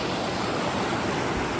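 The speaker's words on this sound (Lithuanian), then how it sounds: "Kriokliai visokie." Waterfalls on a mountain river in Poland pour in a steady, dense roar of rushing water, close and loud, with no voices over it.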